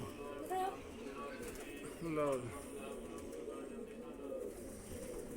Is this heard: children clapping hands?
no